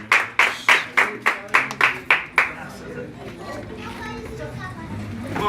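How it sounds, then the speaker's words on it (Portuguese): A church congregation claps in praise with about nine strong, rhythmic, unison claps over a couple of seconds. Murmuring voices and a soft background hum continue afterward. "Palmas que louvam."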